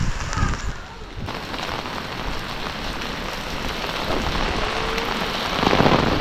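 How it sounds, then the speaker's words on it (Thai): Rain that has fallen since before dawn hisses down in a loud, unbroken wash close by, swelling slightly near the end. "ฝนตกตั้งแต่ใกล้สิแจ้งประมาณ5 โมงจนฮอดเช้าและก็จนฮอดเที่ยงยังบ่หยุดเลย"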